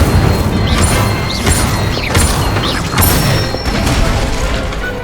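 Incendio fire spell cast in Hogwarts Legacy, a loud whooshing burst with rumbling booms and crackling mechanical clatter layered over game ambience, repeated in quick succession.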